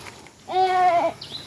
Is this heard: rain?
no